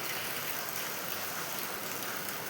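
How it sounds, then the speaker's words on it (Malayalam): Water pours steadily into a pot of vegetable kurma, making a continuous, fairly loud rushing splash with no break for the whole moment. "കുറച്ച് വെള്ളം കൂടി ഞാൻ ഒഴിച്ച് കൊടുക്കുന്നുണ്ട്."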